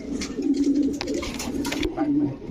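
A male white Danish pigeon coos inside a cage, soft repeated low burbling calls filling the short stretch at close range, with faint background chatter around it.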